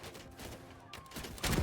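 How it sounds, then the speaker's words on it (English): Gunfire in a Mount & Blade 2 Bannerlord siege battle with samurai gunners, scattered sharp shots cracking amid background battle noise, the loudest burst arriving right at the end. "Look at all those arrows coming in, and all those gunshots being"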